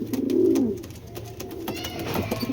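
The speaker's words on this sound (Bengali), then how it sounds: "বিশাল বড় সাইজ, অনেক বড় সাইজের কবুতর" Large giribaz pigeons coo loudly up close, a deep rolling burst at the start followed by quieter murmurs and scattered clicks and shuffling.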